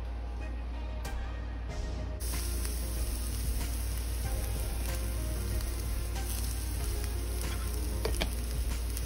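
Garlic and onion sautéing in a hot pan give a loud, steady sizzle and crackle that runs throughout, close up and with no voices.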